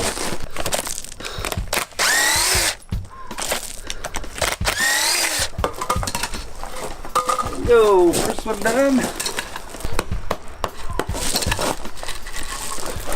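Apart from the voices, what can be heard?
hammer banging on wooden paver forms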